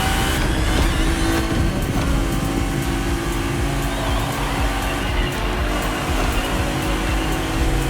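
Racing BMW engine in The Crew Motorfest, a steady, loud droning roar with a sustained engine tone running throughout, no pauses or speech.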